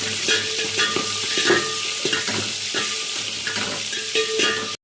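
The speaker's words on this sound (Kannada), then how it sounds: "ಈರುಳ್ಳಿ ಫ್ರೈ ಆಗ್ತಿದೆ" Onions sizzle steadily in a pan on a gas stove for sambar rice, with a scraping stir every second or so and no talking.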